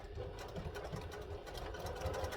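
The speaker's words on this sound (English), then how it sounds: "I'm basically going to stitch along that bottom line" A sewing machine runs a straight construction stitch along the bottom seam of a fabric bag, a steady close mechanical whirr with rapid needle clatter continuing throughout without pause.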